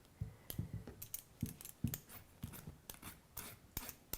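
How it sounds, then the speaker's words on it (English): A beet is peeled by hand with repeated quick scraping strokes, sharp close rasps in an uneven rhythm, with no talking. "I'm going to finish up peeling this beet."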